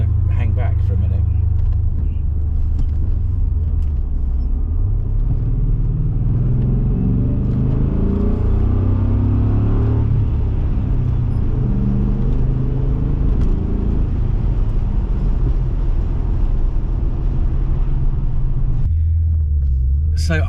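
An MG ZT 260 V8 car engine drives with a deep, steady burbling rumble that swells and eases as it runs continuously, loud and close throughout.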